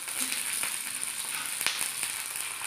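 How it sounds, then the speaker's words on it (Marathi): Chillies and garlic roast in a hot pan for a cabbage bhaji, giving a steady close hiss and sizzle with a few brief crackles and stirring taps, no talking. "चांगलं भाजून घ्यायचं आहे, कारण मिरचीचा आणि लसूणचा कटकटपणा आपल्याला घालवायचा आहे."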